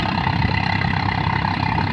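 A Swaraj 855 tractor engine runs steadily at a constant idle-like throb, loud and close, with a dense low rumble and no voices.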